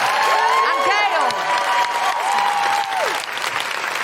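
Studio audience claps and cheers for three podcast guests, a dense continuous wash of clapping with whistles and whoops rising over it, loud and close.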